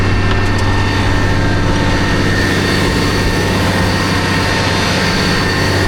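A manure frac tank agitator engine runs loud and close under raised throttle, a steady heavy drone with strong low harmonics holding constant throughout.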